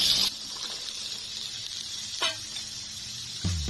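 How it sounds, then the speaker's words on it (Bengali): Cut potatoes and yardlong beans sizzle in hot oil, a steady close hiss broken by brief clatters of stirring near the start, middle and end, with no talking. "তেল গরম হয়ে গেছে দিয়ে দিলাম কেটে রাখা আলু কেটে রাখা বরবটি"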